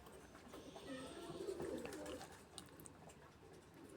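Soft, low pigeon cooing in a short rolling phrase, faint and somewhat distant amid light outdoor background noise.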